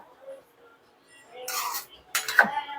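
Ground peanut powder being stirred into a garlic-coconut drumstick curry in a pot, heard as quiet gaps followed by two bursts of scraping and clinking of a spoon against metal, close by and without speech.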